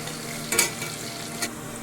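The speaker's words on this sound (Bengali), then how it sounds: "ছোটো ছোটো করে কেটে দিয়েছি আলু, তেলের মধ্যে দিয়ে দেবো।" Small diced potatoes frying in oil with a soft, steady sizzle and two brief stirring scrapes, quiet and close with no voices.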